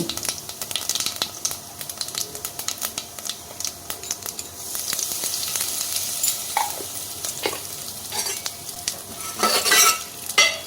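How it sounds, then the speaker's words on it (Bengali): Cumin seeds and dry red chillies tempering in hot oil for a dal, a loud close crackling sizzle with sharp spits and popping bursts and some stirring clinks, no voices. "জিরে আর শুকনো লঙ্কা ফোড়ন দেওয়া হয়ে গেলে আমি দেবো তার মধ্যে হিং"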